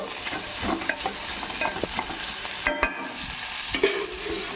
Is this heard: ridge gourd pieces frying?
yes